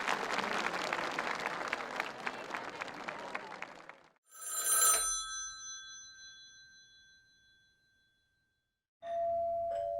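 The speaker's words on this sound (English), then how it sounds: "You would not need to see a phone ringing in order to know that a phone was ringing" A telephone ring sound effect chimes in a brief bright burst after a stretch of clapping-like noise, its tones fading out, followed by a short steady electronic tone at the end.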